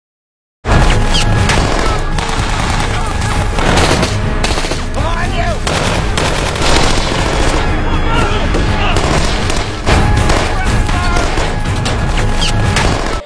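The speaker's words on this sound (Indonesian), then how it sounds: "terjadilah baku tembak yang menegangkan antara kedua kubu" Intense exchange of gunfire in a scene from The Walking Dead: rapid bursts and single shots overlap continuously, loud and close, with occasional shouted voices in the mix.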